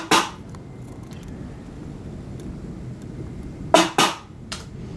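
Two snare hits from a dark trap beat play alone: one sharp crack near the start and a quick double hit near the end, over a low rumbling bed.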